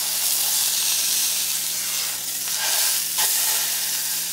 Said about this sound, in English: I'll move it around the different edges, just like so, to get a sear on all those sides.